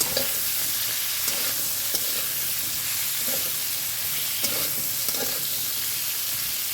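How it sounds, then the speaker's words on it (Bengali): Drumsticks and potatoes with turmeric and salt fry over high heat in a pan, giving a continuous loud sizzle with occasional soft stirring clinks, and no talk. "হলুদ আর নুন দিয়ে আমি কিছুক্ষণ নাড়াচাড়া করে নেবো"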